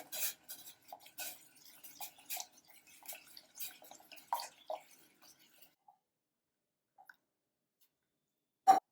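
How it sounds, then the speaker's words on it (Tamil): A spoon stirs black urad dal flour into boiling water in a pot, giving soft scraping and clinking strokes in an uneven rhythm that taper off into quiet, then a single sharp clink. "இப்போ மாவை மெதுவாக ஊற்றி கிளறுவோம்"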